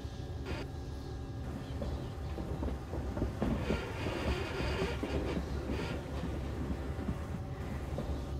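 A train stuck on its rails in the game Someday You'll Return, heard as a continuous loud rumbling, creaking mechanical roar with scattered clanks and metallic knocks throughout, no speech.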